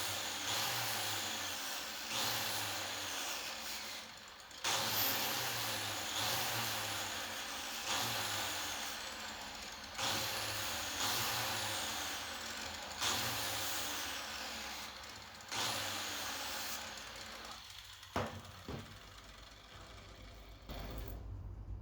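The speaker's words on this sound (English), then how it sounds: "you can take the edge and clean it up with just the right angle grinder and a flap wheel" An angle grinder fitted with a flap wheel cleans up the edge of an old marker light, its whining motor rising and dipping in repeated passes of a few seconds each, close and loud, alone without talk.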